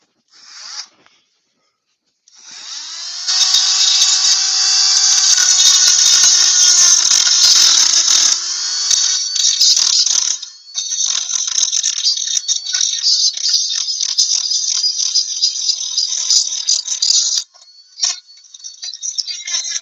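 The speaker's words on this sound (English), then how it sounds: "Is it me or does that Dremel sound angry?" A Dremel rotary tool runs with a loud, steady high-pitched whine that holds for most of the stretch, briefly dipping and then continuing close by.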